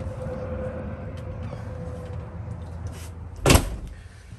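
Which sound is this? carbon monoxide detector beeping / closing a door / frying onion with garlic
closing a door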